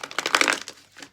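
Tarot cards being shuffled by hand, a quick papery riffle of crinkling and flicking that builds to a dense burst, then trails off into a few softer slides, close and fairly quiet with no voice.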